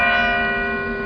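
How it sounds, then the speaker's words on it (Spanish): A single large bell struck once, ringing loud and close with a long, shimmering decay of layered overtones. "¡Deja de tocar esa campana ahí!"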